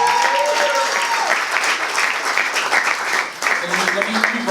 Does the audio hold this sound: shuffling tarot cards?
no